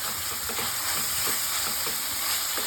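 Tomatoes, ginger garlic paste and turmeric sizzle steadily in AMC cookware for gongura chicken, a dense close frying hiss with faint stirring scrapes mixed in.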